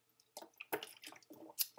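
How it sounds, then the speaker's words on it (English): A person takes a sip of water, making faint, close slurping and wet swallowing sounds in a few soft bursts, with no speech. "So let me take a sip of water."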